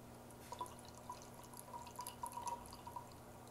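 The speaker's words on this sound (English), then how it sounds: "I'm going to take the shrimp and I'm going to pour it in the tube." Small shrimp poured with water into a seahorse feeding tube give faint, close splashes and drips in an irregular patter over a soft, steady background hum.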